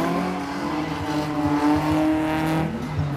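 A BMW 3000 driven hard at a motor show drifting event, its engine holding a strong, steady drone with rising pitch sweeps, loud and close with faint background noise.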